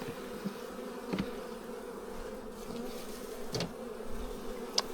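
Honeybees buzz steadily in a dense hum at an opened hive in remote New Zealand bush during winter preparation, with a few individual bees passing close.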